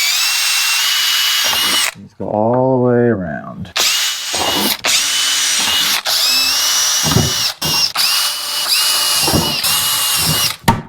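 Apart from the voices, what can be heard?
drilling holes with a power drill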